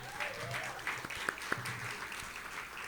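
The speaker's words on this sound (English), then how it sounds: "And yes, you can absolutely clap." Wedding guests applaud in a small room, a steady soft patter of clapping with a few sharper individual claps standing out, moderately quiet and without talk.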